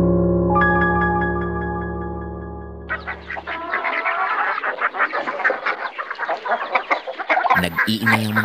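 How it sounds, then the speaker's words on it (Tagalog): Chickens clucking noisily at close range, a dense run of overlapping squawks and clucks from several birds that follows a steady tonal hum. "Nag-iingay ang mga manok"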